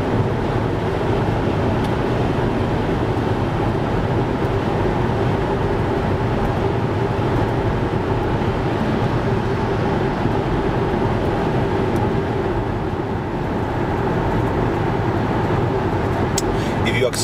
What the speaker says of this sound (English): gasoline engine will be started and switched to parallel mode